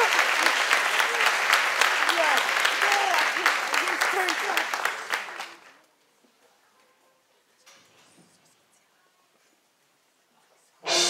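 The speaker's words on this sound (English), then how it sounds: "Please give a big round of applause for William Waters School Band" At a school Christmas concert, an audience gives the elementary school band a loud, dense round of applause that lasts about five seconds, then fades quickly into near silence broken by faint rustling.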